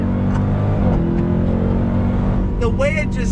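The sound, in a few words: Dodge Durango Hellcat SUV accelerating in second gear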